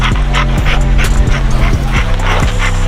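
A young dog during spring pole work gives rapid, repeated yipping barks roughly twice per second, loud and close over a steady low hum.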